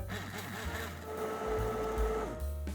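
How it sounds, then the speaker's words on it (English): A blender whirring through simmered gochujang barbecue sauce, a close motor whine that rises and shifts in pitch as the thick mixture churns, with brief changes in load near the end. "let's get this blended"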